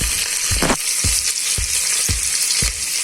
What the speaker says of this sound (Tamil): வெங்காயம் போட்டுக்கோங்க. நல்லா வதக்கணும்.